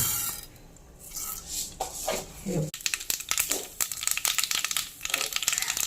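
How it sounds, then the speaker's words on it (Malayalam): Mustard seeds crackle and spit in hot oil in a heated pan while tempering a roasted-coconut curry of dried shark and raw plantain. After a softer start, the dense, irregular close-up popping grows busy and sharp. "കടുക് പൊട്ടിക്കല്ലേ?"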